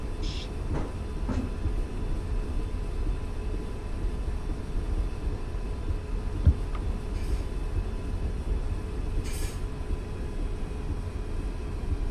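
Simulated old trolley train running in the Train Simulator 2019 game: a steady low rumble with a few sharp clunks and faint higher squeals, continuous and without speech.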